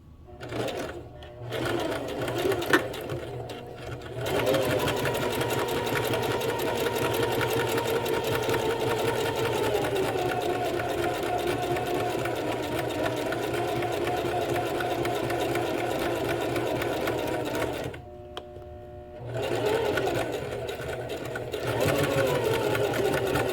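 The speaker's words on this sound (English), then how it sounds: "we're just going to sew our basic straight seams like before" A sewing machine runs basic straight seams for a French seam, its motor buzzing in long continuous runs with brief stops and restarts, close and steady, with a voice talking at the start.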